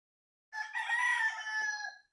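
A White Kelso gamefowl rooster crows once, a clear, close single cock-a-doodle-doo lasting over a second against otherwise quiet surroundings.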